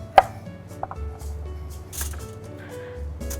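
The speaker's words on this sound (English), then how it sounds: "I like to cut on a bias and cut them into rough thirds." Knife slicing carrots on a bias into rough thirds on a cutting board, a series of crisp close chops with short pauses between strokes and a low background hum.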